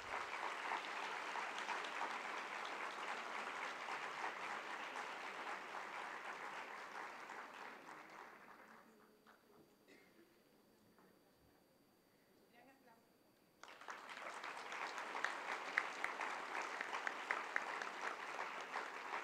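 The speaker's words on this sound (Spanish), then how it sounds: "Un aplauso, por favor, para ellos." Sustained applause from a conference audience at a closing session, a dense steady clatter of many hands that fades briefly to a quiet lull before a second burst of clapping resumes just as strongly.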